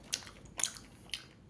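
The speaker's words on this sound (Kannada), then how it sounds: "ಆಲ್ಮಂಡ್ ತಿನ್ನೋಣ ಒಂದು" Three short, crisp crunches a few tenths of a second apart as an almond is bitten and chewed up close, with no talking.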